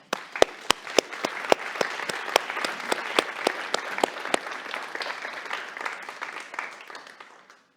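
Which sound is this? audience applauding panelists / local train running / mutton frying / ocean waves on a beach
audience applauding panelists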